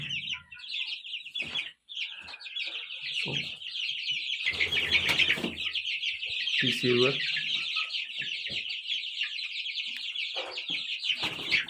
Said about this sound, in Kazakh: Мынау өзіміздің үйдегі домашний тауықтарының жұмыртқасынан шыққан балапан.